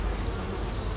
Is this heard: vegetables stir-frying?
no